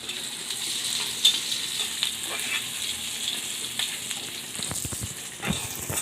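Whole spices crackle in hot oil as a tempering for masoor dal, a steady close sizzle with scattered pops and a few stirring scrapes throughout, no voices.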